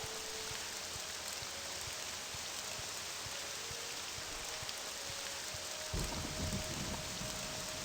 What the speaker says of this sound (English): God, I want the rain to stop, it's so loud.